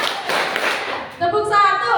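Children at an Islamic learning centre (TPA Ar-Rahman) clap a counted rhythm pattern together, a brief group patter of claps, and then a voice speaks over the room.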